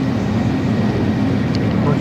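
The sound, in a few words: airplane flying overhead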